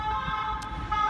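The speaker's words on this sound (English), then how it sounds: "there's an ambulance deciding to go somewhere" An ambulance siren passes at a distance, a steady tonal wail running the whole way through over faint traffic hum, with no talk.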